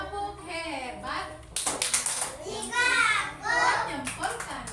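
Schoolchildren in an Indonesian primary classroom perform the "tepuk hebat" clap, a burst of group hand claps mixed in with their own lively chanting voices, close and fairly loud.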